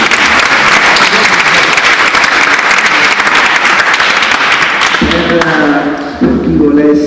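A university audience applauds in loud, sustained clapping that holds steady for several seconds, then thins out as a voice starts speaking over the fading claps near the end.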